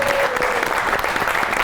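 Loud studio audience applause on a Pakistani talk show, a brief dense burst of clapping as a guest is introduced.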